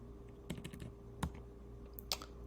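Typing on a computer keyboard while solving a crossword, with a few sharp, quiet key clicks spread irregularly over a faint steady hum.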